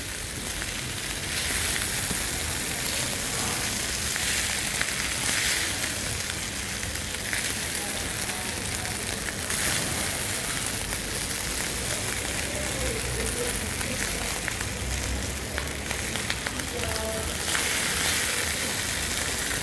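Mushrooms hitting a hot seafood paella pan give a steady, even sizzle that hisses without pause, with faint crackles here and there and no clear break.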